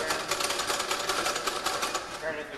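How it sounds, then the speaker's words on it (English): An old hand-cranked sewing machine, part of a school antique display, runs with a quick, steady mechanical clatter, its rapid ticking stitches repeating evenly under a person talking. "this, of course, is the old hand sewing machine"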